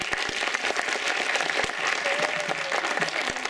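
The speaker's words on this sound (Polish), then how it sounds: "Brawa dla wykonawców." Festival audience applauding the performers at a patriotic and religious song contest results ceremony, a dense, even wash of clapping that stays steady throughout.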